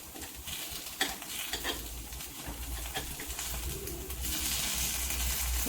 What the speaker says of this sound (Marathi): हे बघा वरून असं थोडंसं सुकलं का पलटी करून घ्यायचं असं चमच्याने